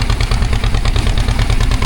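A small fishing boat's motorboat engine chugs steadily on Bankot creek, a loud close pulsing thrum with a fast even beat and nothing else heard.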